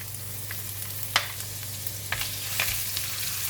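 Ginger stir-frying in a pan for tofu with Korean chili paste, a steady low sizzle broken by a few sharp spatula scrapes and taps, close and moderately loud with no voices.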